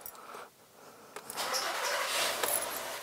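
A 2012 Skoda Superb with a 260 PS engine cranks and starts, a brief starter whir followed by the engine catching and settling into a steady close idle.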